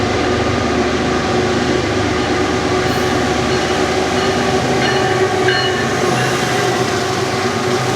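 A train rolls steadily through Fullerton station, a loud continuous rumble and rail hum filling the scene with faint wheel clatter and no voices.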